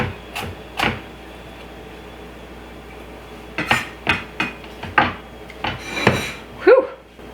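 Knife chopping red onion into small pieces on a cutting board, a few scattered chops at first, then a run of sharp, close taps spaced roughly evenly.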